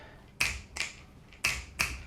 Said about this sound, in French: les bruits de claquements de doigts